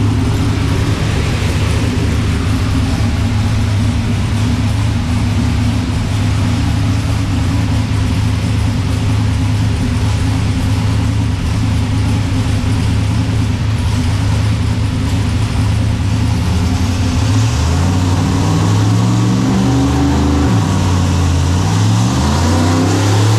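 A boosted Nissan drag car engine idling with a loud rough drone, then revving up and down in rising and falling sweeps near the end.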